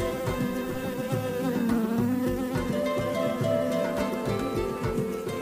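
A bee buzzes near a giraffe during a children's church story, a steady insect drone heard among dense, busy background sound that continues through the whole clip.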